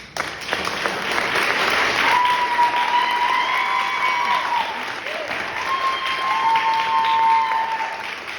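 Audience applause for volunteers and staff at an arts event, sustained steady clapping from a crowd, with a whistle-like tone and crowd noise over it.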